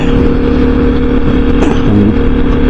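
Close, loud Kawasaki KLX 300 motorcycle engine on a winter ride, holding a steady throbbing drone that swells into a brief rev near the end, with no voices.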